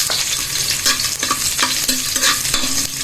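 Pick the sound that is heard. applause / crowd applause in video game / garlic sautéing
garlic sautéing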